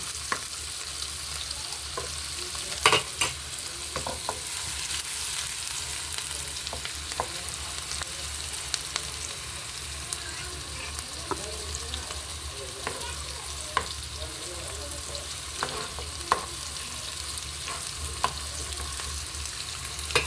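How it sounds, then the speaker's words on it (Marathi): Chili and onion frying in a pan while being stirred: a steady, close hiss of sizzling oil broken by scattered sharp scrapes and clicks of the spoon against the pan, with no talking. "मिरची कांदा टाकूया. छान असं हलवून घेऊया."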